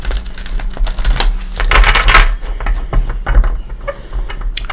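Tarot cards being shuffled by hand, a rapid run of crisp, close papery clicks and flutters in quick bursts, with no talking.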